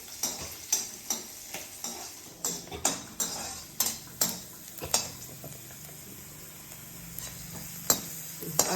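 Pirandai (adamant creeper) sautéed in oil in a pan crackles softly while a utensil knocks and scrapes against the metal in a steady, repeated stirring rhythm.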